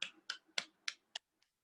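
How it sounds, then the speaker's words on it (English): Children clapping their hands during an online junior kindergarten class, five or six sharp separate claps in an uneven rhythm, the last few fainter, heard alone without talk. "Now clap your hands, everybody."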